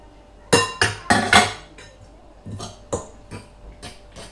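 Spoon clinking against a pot while spinach is mixed into rice: a quick run of sharp metallic taps close by, then several lighter, spaced knocks.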